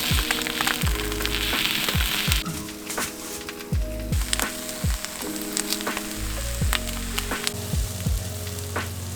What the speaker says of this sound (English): Hopefully we can cook up some breakfast.